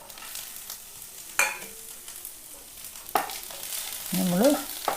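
Curry leaves, a piece of ginger, garlic cloves and shallots fry in a pan for a chicken dish, with a soft continuous sizzle broken by sharp scraping stirs and clatters.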